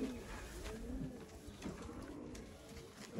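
Sialkoti pigeons coo in soft, repeated low warbling calls close by, with faint background noise and no clear speech.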